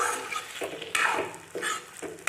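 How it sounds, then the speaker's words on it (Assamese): Kabuli pigeon curry is stirred and fried in a pan over low heat, giving a short run of scraping spatula strokes against the metal over a soft sizzle. "ভাজি থাকিব লাগিব"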